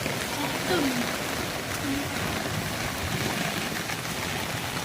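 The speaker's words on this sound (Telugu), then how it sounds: "చాలా పెద్ద వర్షం కదా" Heavy monsoon rain comes down in a dense, steady hiss heard from indoors at home, loud and unbroken for the whole stretch, with a brief faint voice at the start.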